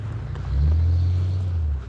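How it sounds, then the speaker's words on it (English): A private snowplow drives past during a snowstorm at night, its low engine rumble swelling and holding for about a second over steady background noise. "Oh, there's a snowplow."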